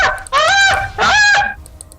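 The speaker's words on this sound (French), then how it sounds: "C'est le cri d'un oiseau qu'il y a chez moi" A bird calling at someone's home, two loud honking, goose-like cries in quick succession, each about half a second long, close and clear with no talk over them.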